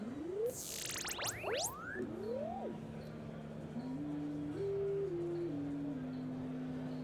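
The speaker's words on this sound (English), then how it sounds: "So now we have a drone with 2 sine oscillators." A Monolab 1210 synthesizer starts with a few quick rising chirps, then settles into a steady, fairly quiet drone of two sine oscillators, one tone stepping up and down in pitch over a faint hiss.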